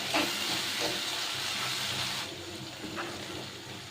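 Spice masala with whisked yogurt sizzles in a pan over a low gas flame for achari capsicum aloo, a steady hissing fry that holds strong for about two seconds and then softens, with no one talking.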